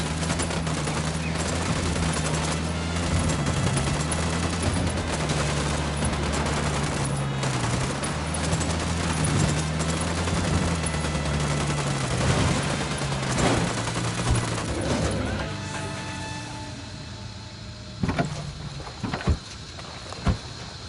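Sustained gunfire in the video game Ghost Recon Wildlands, a dense, continuous fusillade of rapid shots over a droning engine hum that thins out near the end into a few scattered bursts.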